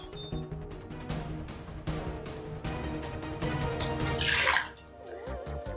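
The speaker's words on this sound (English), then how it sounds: "you're just going to add a cup of water to your quick cooker" Water is poured into a Quick Cooker in a kitchen. It begins as a steady, splashing stream, swells into a louder gush near the end and then cuts off abruptly.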